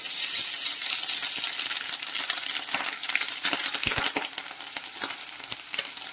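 Grated coconut frying in a hot pan for a Kerala dried prawn curry, a continuous bright sizzle with scattered clicks and scraping stir sounds, close and loud, no voices.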